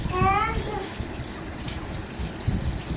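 Cabbage being washed under running water from a tap, a steady close splashing gush throughout, with a voice briefly heard at the start.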